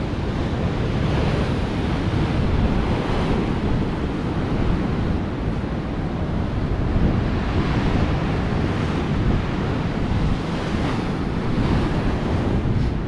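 Heavy surf pounds and crashes continuously against a seawall at Whitley Bay, with roaring wash and gusting wind buffeting the microphone throughout.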